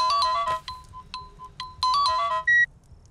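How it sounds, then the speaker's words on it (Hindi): Maya's mobile phone plays a bright melodic ringtone in short repeated phrases with brief pauses, loud and close, over faint low background hum in a quiet room. "माया का फोन।"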